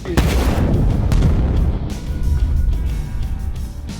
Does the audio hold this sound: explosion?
yes